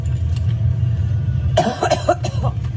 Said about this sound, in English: why is she constantly coughing like that?